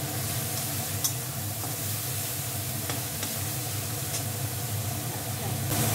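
Onions fry in a pan with a steady, soft sizzle and hiss at close range, broken now and then by small faint clicks.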